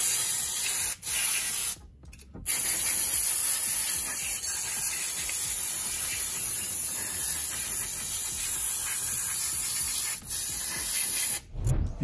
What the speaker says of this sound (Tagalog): linisin nyo muna yung brake caliper nyo gamit ng brake cleaner